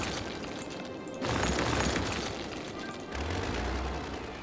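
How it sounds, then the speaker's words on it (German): Building demolition in the video game Cities: Skylines: two bursts of crumbling, rumbling crash noise about two seconds apart over a steady background hum. "Jetzt kann ich den Scheiß hier auch wieder abreißen."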